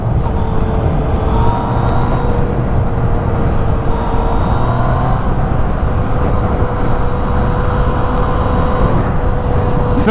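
A Yamaha MT-09 motorcycle engine drones steadily and loudly with constant rumbling road noise, heard from on board while riding, with a faint rising whine at times.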